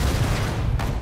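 Grenade explosions mixed with gunfire in the WWII strategy game Sudden Strike 4, a dense continuous rumble of distant blasts and crackling shots.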